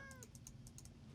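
A Minecraft cat gives one brief, faint meow at the start, followed by quiet game ticking and soft clicks.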